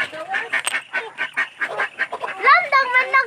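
A duck on a rural farm quacks repeatedly in short, nasal, honking bursts close by, with the calls growing denser and louder toward the end.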